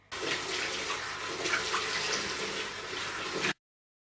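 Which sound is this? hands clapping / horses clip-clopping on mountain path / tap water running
tap water running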